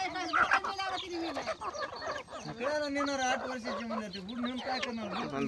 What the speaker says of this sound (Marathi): ही आठ वर्षाची कोंबडी आहे ही